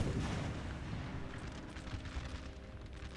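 Canister artillery firing in the Napoleon Total War battle game, heard as a heavy rumbling boom that slowly decays, with distant battle noise and no speech.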